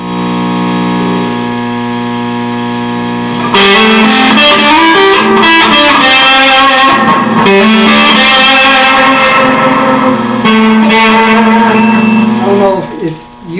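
An electric guitar played through a Voodoo Labs Giggity overdrive pedal with a distortion pedal turned up: a sustained, dense, heavily distorted tone that starts as a held note, then becomes loud, thick chording throughout.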